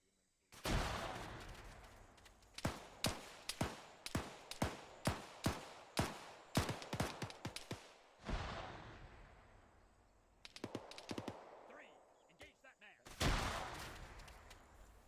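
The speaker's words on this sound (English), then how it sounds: "that's some nice shooting" Rapid bursts of gunfire from the video game Arma 3 crack out over about fifteen seconds, a dense string of sharp shots with a few pauses, loud and close, mixed with distant report echoes.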